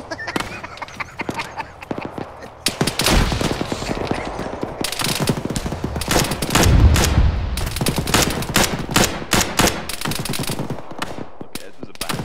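Gunfire in the military shooter Arma 3: sustained machine-gun bursts and scattered rifle shots crackle through the whole stretch, loud and dense, with firing intensifying after the first few seconds.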